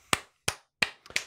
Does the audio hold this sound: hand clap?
yes